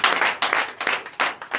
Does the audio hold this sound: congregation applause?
yes